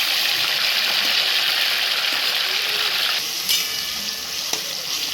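Steady close sizzle of food frying in hot oil in a kadai while a village-style Maral fish curry is prepared, a dense hiss running the whole time with a few faint clinks near the end.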